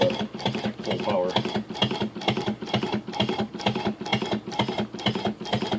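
A model steam engine runs throttled down slowly, giving a rapid, even, close mechanical chuffing and clatter that repeats several times a second without letup.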